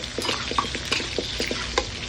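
Pointed gourd frying in oil in a pan makes a close, steady sizzle broken by soft clicks and scrapes of stirring, with no voices.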